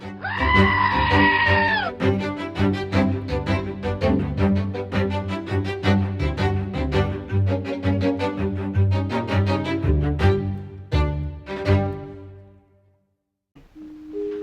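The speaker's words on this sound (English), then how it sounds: "They'll be screaming just like this little goat." A little goat screams in a loud, strained bleat for about two seconds, followed by a dense run of steady tonal sound that fades out near the end.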